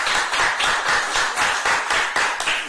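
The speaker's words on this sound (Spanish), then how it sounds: "Yo creo que merece un aplauso muy fuerte de nuestra parte" Clapping for a researcher at a small gathering, heard as a few hands beating in a rhythmic, near-even pattern, close and moderately loud for a few seconds.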